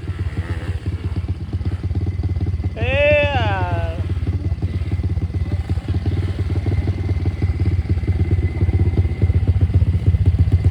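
An enduro motorcycle is pushed uphill on an off-road trail, its engine droning and revving nearby with mechanical clatter throughout, while people talk and shout over it.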